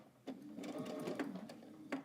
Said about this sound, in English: We're going to sew to our dot, back stitch, and now we're going to pivot again and keep sewing all the way up.